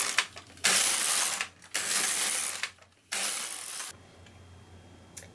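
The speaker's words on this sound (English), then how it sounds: "So then I'm just going to start knitting my garment" Knitting machine carriage swept back and forth across a garment in three loud mechanical passes, each a rushing clatter separated by short pauses, followed by a quiet hum.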